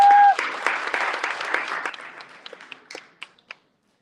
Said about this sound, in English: with a big round of applause, I'm going to invite Lily Harper to the stage